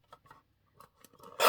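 Scissors snip paper in a few short, quiet cuts while trimming the sides of a craft piece, ending in a louder, brighter crisp snip up close.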